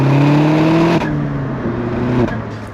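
A Vauxhall VXR with a 2.5-inch Milltek catback exhaust revs loudly and close, its engine note climbing, dropping between gear changes and rising again in a strong droning tone.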